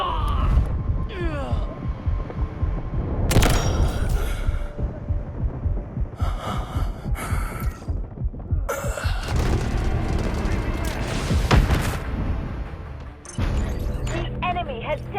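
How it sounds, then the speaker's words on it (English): Artillery barrage in the military shooter game Delta Force Mobile: repeated loud, deep booms and rumbling blasts with broadband crackle, spread through the clip under game radio voice lines and battlefield noise. "Artillery barrage incoming."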